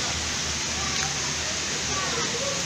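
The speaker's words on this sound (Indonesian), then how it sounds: "Keadaannya masih hujan di luar sana." Heavy rain pours outside, a loud, dense, unbroken hiss filling the whole stretch, with faint voices underneath.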